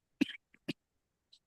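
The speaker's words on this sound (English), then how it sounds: "Apologies for the coughing." Two short, sharp coughs from a person in a meeting, close and dry, separated by a brief pause and followed by a faint breath.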